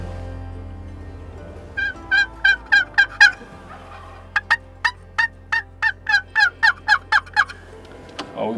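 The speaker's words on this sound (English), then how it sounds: "We can already hear them gobbling off the roost." Wild turkeys gobble off the roost at dawn during a spring hunt, a volley of loud rattling gobbles in two bursts of about six and ten calls each, repeating roughly every half second over a low hum of ambient background.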